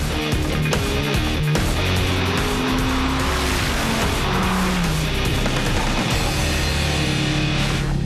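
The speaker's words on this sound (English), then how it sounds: "It's an old-school, huge American engine with rear-wheel drive and a stick shift." Dodge Viper with a huge old-school American engine, rear-wheel drive and a stick shift, driving hard with a loud continuous engine roar and tire squeal, no voices.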